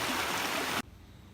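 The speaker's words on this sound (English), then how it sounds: "Come up to the water. Swirling vortex of water going down." Water rushing and swirling down a stream over granite rock, a steady broadband wash close by that cuts off abruptly partway through, leaving near silence.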